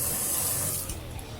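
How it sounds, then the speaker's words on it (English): Tap water runs over a Wilkinson Sword straight-edge razor, a close, steady hiss of flowing water that softens and thins out after about a second, with no one speaking. "now you are going to hear the water running because I'm going to run this under water"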